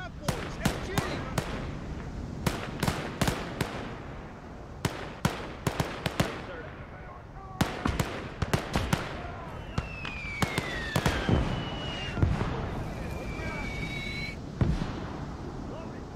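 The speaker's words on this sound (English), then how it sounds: "Watch out for that cannon!" Irregular bursts of machine gun fire and heavy cannon booms crack out in clusters in the video game Gates of Hell, with occasional distant shouted voices between the shots.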